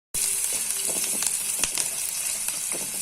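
Onions and mustard seeds fry in hot oil for oggarane dosa, a steady close sizzle with scattered crackles and pops, plus a few light scrapes of stirring throughout.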